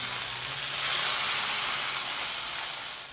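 Coconut oil sizzles hard as mustard seeds, curry leaves and chopped shallots are tempered for an okra curry, a dense, bright hiss swelling a little and then easing, close up with no talking.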